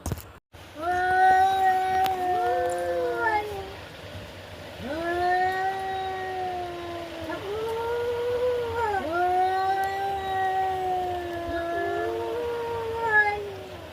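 Two cats in a fight let out long, drawn-out yowls and wavering howls that rise and fall over and over, loud and close.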